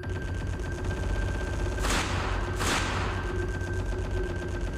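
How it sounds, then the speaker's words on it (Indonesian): Gunshots fired at a giant ogre in an Indonesian horror audio drama: two sharp broadband blasts about a second apart over a steady rumbling dramatic background, loud and close. "Peluru-peluru ditembakkan ke arah Buto Ijo."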